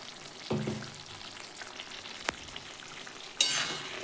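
Raw poppy seed paste with a little added water is stirred in a pan with cauliflower and potato, giving a soft sizzle broken by a few scraping stirs and clanks of the spoon.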